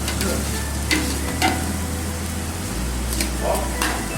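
Cauliflower and onion fry in a pan with a dense, continuous sizzle close up, a few faint stirring scrapes and a low steady hum underneath.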